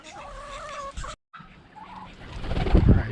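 Pet quail being moved between cages give short bird calls early on, followed by a gap and then handling and rustling noise.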